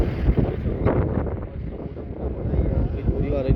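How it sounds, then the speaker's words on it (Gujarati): Strong cold wind roars across the microphone at Dwarka in continuous low buffeting gusts, rumbling throughout. "ફૂલ ઠંડો પવન છે, જોઈ શકો છો"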